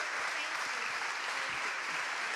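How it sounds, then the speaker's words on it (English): Steady audience applause at a scholarship event, a dense, even wash of clapping that carries on for the full stretch without pause. "a round of applause"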